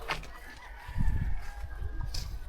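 Chickens and a rooster cluck at a farmhouse, with short throaty calls and a brief crowing phrase against a rustling outdoor background.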